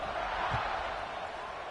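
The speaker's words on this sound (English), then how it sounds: "this crowd is buzzing after that last score" Football stadium crowd at a league game waiting for a kickoff after a score, a dense, steady broadband buzz of many voices filling the space, with no single voice standing out.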